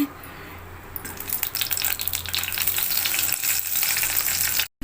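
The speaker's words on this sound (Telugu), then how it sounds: "పాల్లో ఆయిల్ పోసుకున్నానండి. ఇప్పుడు పచ్చిమిరపకాయలు వేపించుకుందామండి." Green chillies fry in hot oil in a pan, giving a steady, close crackling sizzle that swells after a brief lull near the start and cuts off abruptly at the end, with no voices.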